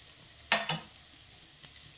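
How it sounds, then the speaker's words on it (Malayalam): Crushed garlic, green chillies and curry leaves sauté in oil for potato mezhukupuratti, a faint sizzle broken by two sharp stirring scrapes and a later soft clink. "ഇതെല്ലാം കൂടെ എണ്ണയിലിട്ടൊന്ന് വഴറ്റിയെടുക്കാം."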